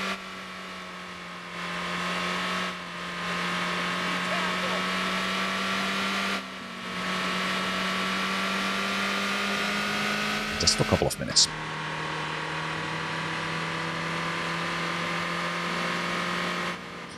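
A car engine in the Motor Town driving game drones steadily and revs louder as the vehicle speeds up, a continuous mid-pitched hum with a brief burst of clatter midway, while someone talks over it.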